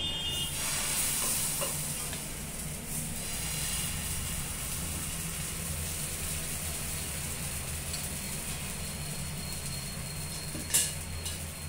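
Wheat dosa frying on a hot pan gives off a steady, close sizzling hiss that holds evenly throughout, with one brief clink near the end and no talking.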